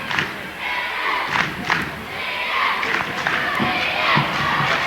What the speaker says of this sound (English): And the Trojan fans whooping and hollering behind us